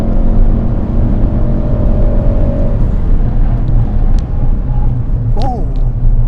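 A Ford Focus RS on the Goodwood track, its engine a loud steady drone heard from inside the car, with tyre squeal near the end and voices talking over it.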